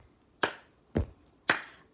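Three sharp, evenly spaced hand claps or taps ring out close and alone during a parent-child music lesson, each a crisp slap with a short decay.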